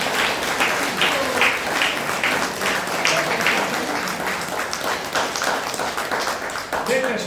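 Sustained applause from the audience at a women's day event in Velenje, honouring a women's choir of retirees; dense steady clapping fills the whole stretch at even loudness, with faint voices mixed in.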